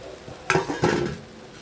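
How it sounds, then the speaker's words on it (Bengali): A utensil scrapes and stirs tomatoes into a Bengali chicken curry (murgir jhal jhol) in a pan. Two short, close stirring strokes sound over a faint sizzle, with no talking. "টমেটো দিয়ে ফের নাড়াচাড়া করব।"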